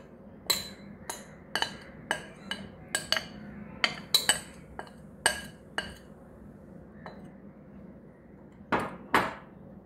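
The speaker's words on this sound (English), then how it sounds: "Now incorporate the flour into the mixture." A utensil folding flour into orange cake batter in a bowl, heard as a string of sharp clinks against the bowl at an irregular rhythm, close and fairly loud over a quiet background, with a closer double knock near the end.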